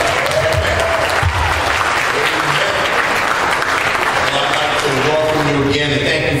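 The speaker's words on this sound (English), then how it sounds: "Let's give him a hand clap this morning." A church congregation at an Easter service claps together, loud and sustained across the room, with a few voices and cheers mixed in under the applause.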